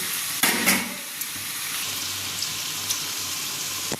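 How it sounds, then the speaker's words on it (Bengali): Boiled eggs and potatoes frying in a pan, giving a steady close sizzle with a few light stirring clicks and no talk. "এবার আলু আর ডিমটাকে আমি ফ্রাই করে নেব।"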